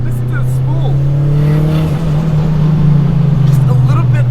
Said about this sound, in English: Listen to those pops and bangs and the burbles.